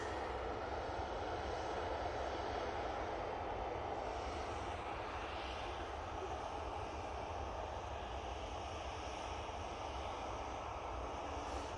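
A Ryanair airliner at Manchester Airport, a continuous, even jet engine roar at moderate distance, steady and alone without talk.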